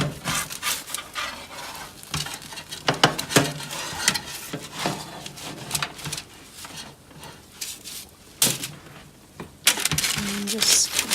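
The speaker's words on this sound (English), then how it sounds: "So I just used 2 spatulas and just kind of get under each side." Two spatulas scrape and clack against a baking pan as cauliflower pizza crusts are lifted and flipped, making a run of quick, close scraping and tapping sounds.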